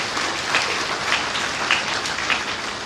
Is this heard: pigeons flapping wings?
no